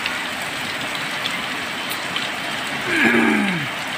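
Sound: heavy rain falling, dripping from tin roof

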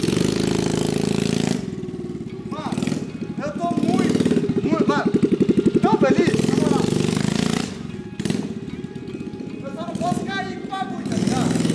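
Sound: mini quad bike engine running

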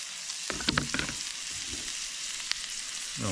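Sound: chopped garlic frying in a pan on a Trangia stove

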